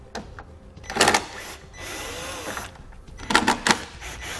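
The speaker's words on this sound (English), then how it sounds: "we're going to grab a T15 Torx bit and pull those fasteners out" A power driver with a T15 Torx bit spins out taillight fasteners on a Chevrolet Equinox, giving short close whirring bursts separated by pauses and faint handling noise.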